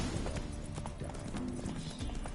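Roach, a horse in The Witcher 3, walks with steady clip-clopping hooves, close and even, over a low background bed.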